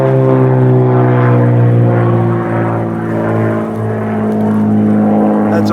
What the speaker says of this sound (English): we have an airplane flying over.